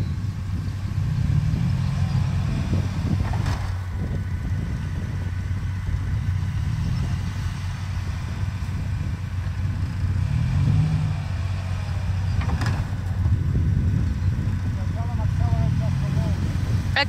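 A Toyota Land Cruiser FJ80 engine rumbles steadily at low revs while crawling through deep Siberian snow, a close, continuous drone with faint voices mixed in.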